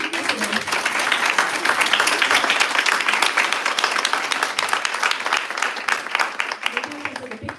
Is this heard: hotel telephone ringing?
no